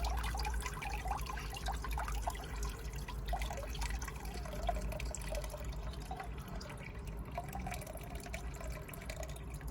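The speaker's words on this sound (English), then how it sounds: "Water's draining out very fast." Water draining fast from the bottom hole of a Land Rover Freelander 2 air filter housing: a steady trickling, dribbling flow close by, running continuously without a break.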